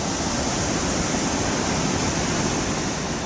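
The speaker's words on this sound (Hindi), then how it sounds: "ये आवाज इस सैलाब की है जो बस चल पड़ा है।" A flash flood in Rampur, Shimla, rushes in a dense, unbroken roar of water, loud and steady for the whole stretch, with no voices.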